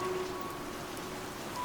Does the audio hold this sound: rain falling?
yes